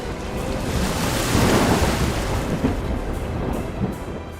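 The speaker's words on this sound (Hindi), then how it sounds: "जब दोनों पक्षों ने मिलकर विशाल समुद्र को मथना शुरू किया तो उसकी लहरों की आवाज से पूरी धरती कांप उठी।" Vast churning sea heaving in mythic upheaval, a dense continuous roar of crashing surf with deep rumbling undertones, loud and close throughout with no voices.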